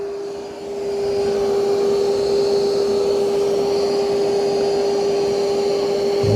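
A Yeedi M12 Pro robot vacuum runs on its highest suction setting, rated at 11,000 Pa, producing a loud, steady whine with a strong constant tone over a broad airy roar that swells up quickly and then holds.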